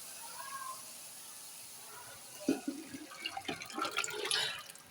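Gram flour and yogurt mixture being poured into a pan of fried spices for kadhi, a soft liquid splashing and sizzling that builds in the second half after a quiet start, with faint background noise.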